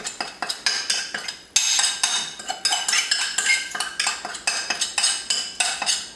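A utensil stirs bean mix into cooked rice in a bowl, with steady repeated scraping and clinking strokes close up, loud and rhythmic, no talking.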